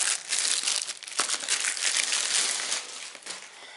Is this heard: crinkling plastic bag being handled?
yes